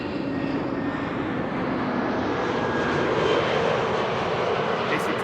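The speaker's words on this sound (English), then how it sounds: "EasyJet arriving from Milan," An EasyJet Airbus A320neo landing at Amsterdam Schiphol Airport, arriving from Milan, gives a steady, broad engine roar that holds at moderate loudness throughout, heard from a distance with no talking.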